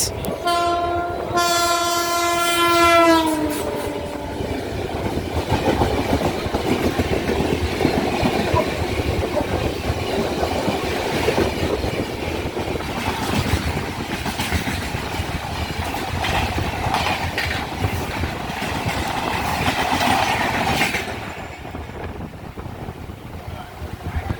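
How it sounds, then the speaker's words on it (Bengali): A horn blast opens, then the Howrah–Asansol Agnibina Express rushes past close by near Liluah station, a long loud rumble of wheels and rattling carriages before quickly fading. "সামনে আসছে হাওড়া টু আসানসোল অগ্নিবীণা এক্সপ্রেস"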